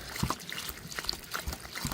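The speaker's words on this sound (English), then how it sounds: "Then, seems backwards, but we're adding a load of water to it." Water trickling and splashing into a bucket of horse manure outdoors, a soft irregular pour at moderate level with brief louder splashes.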